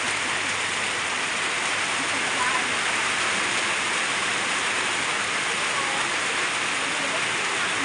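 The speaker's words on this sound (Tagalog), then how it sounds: "umuulan na po" Steady rain falling outdoors near a house, a dense, even hiss of close, loud downpour that continues without letup.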